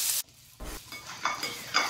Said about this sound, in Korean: 참기름, 물엿, 통깨 넣고 볶아주세요.